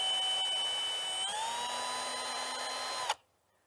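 Power drill pre-drilling holes in a wooden board for a bluebird house, a steady high whine that rises in pitch partway through and then cuts off sharply near the end, close and loud.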